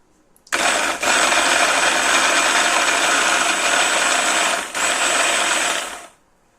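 A blender grinding green pea pods gives a loud, high-pitched motorized whirring that runs steadily for several seconds with a short dip in the middle, then winds down and stops.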